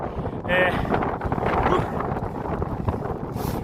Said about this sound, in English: the wind's taking me breath away